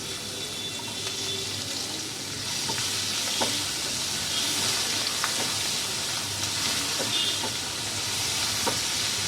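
Chopped onions hit hot oil tempered with nigella seeds, producing a loud, dense, continuous sizzle with scattered stirring clicks and scrapes from a spoon in the pan.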